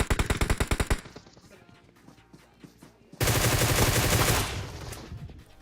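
Rapid automatic bursts from a Groza rifle in PUBG Mobile, a sharp rhythmic string of shots up close, then quieter distant firing, then a loud dense sustained volley near the end.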